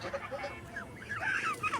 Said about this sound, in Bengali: কতগুলো হাঁস আর কি সুন্দর লাগছে